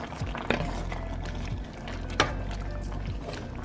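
Tomato sauce being stirred into pinto beans in a pot: a continuous thick, wet churning and sloshing, close and moderately loud, with a couple of soft spoon knocks against the pot.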